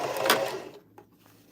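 Sewing machine stitching a circular seam on a bucket hat, a short close whirring burst that stops abruptly and leaves faint mechanical ticks.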